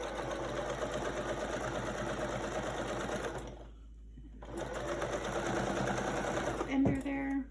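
A sewing machine runs steadily stitching a quilt top with a quarter-inch seam, a continuous close whir that pauses briefly midway and then resumes, ending with a short click.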